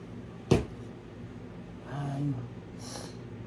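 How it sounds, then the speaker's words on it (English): A sharp nasal sniff near the start, followed later by a softer breathy sniffle and a faint exhale, close to the microphone in a quiet room. "Excuse my sniffling."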